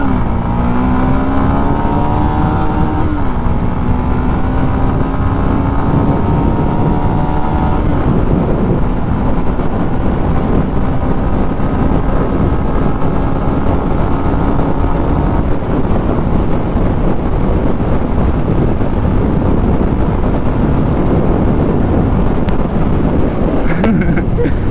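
A Yamaha FZ-S V4.0 149cc motorcycle engine drones steadily while riding, its tone climbing through gears early on, with constant wind rush over the microphone throughout.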